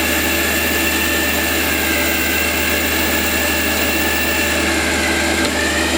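A lathe spinning at 1100 RPM turns a quill plate, making a loud steady hum and whir with a constant machining tone throughout and no voices.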